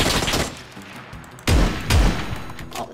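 Gunfire in a battle-royale style video game: a quiet stretch, then two sharp, loud bursts of shots about half a second apart, each ringing briefly before fading.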